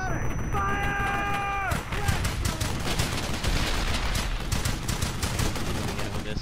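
Rapid bursts of rifle and machine-gun fire from a squad in the World War II shooter Brothers in Arms: Hell's Highway, loud and continuous throughout, with shouted voices and a rising tonal whine early on.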